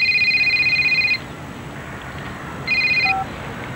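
A mobile phone rings in two electronic bursts, the first lasting about a second and the second shorter after a pause, clear and fairly loud over a quiet background.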